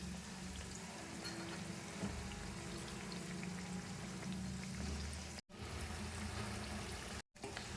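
Hing kachori frying in hot oil, a steady close sizzle and crackle with bubbling that keeps going throughout, cut by two brief dropouts near the end.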